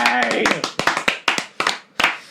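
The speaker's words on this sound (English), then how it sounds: "All three people clapping in the studio." Three people clap in a small radio studio, a sparse, close run of individual sharp claps with uneven rhythm, starting under a cheering voice and ending in a short final burst.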